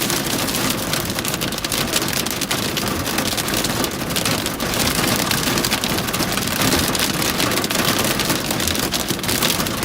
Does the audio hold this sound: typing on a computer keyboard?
no